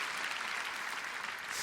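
A church congregation at a youth prayer meeting gives a round of applause, a brief, even burst of many hands clapping together, fairly soft and steady.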